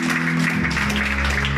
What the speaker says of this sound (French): Applaudir le Seigneur ce matin.